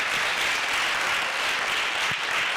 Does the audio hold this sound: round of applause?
yes